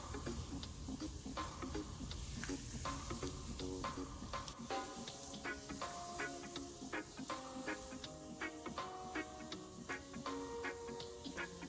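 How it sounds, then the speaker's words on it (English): Steady crackling sizzle of a pork chop frying in hot oil, with sharp pops and clinks of utensils against the pan, close up. "It's sizzling"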